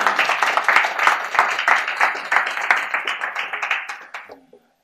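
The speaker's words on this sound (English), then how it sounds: "Let's hear some applause for that young lady." Audience applause at a church service, a burst of clapping from a modest crowd that stays fairly even before tapering off and stopping near the end.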